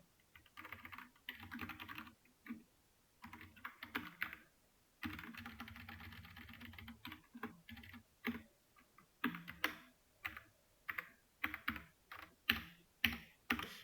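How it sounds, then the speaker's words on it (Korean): Computer keyboard typing during a Java programming lesson, soft and close, coming in irregular bursts of keystrokes with short pauses between them and no talk over it. "키보드가 자꾸 하나씩 씹히는 기분이 나는데,"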